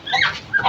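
Chickens in a coop give close, loud clucks, two quick bursts of rising squawking calls.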